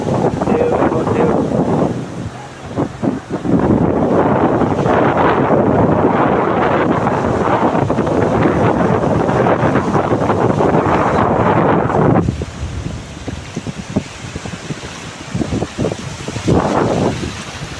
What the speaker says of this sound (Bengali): ঢেউ, ঢেউ।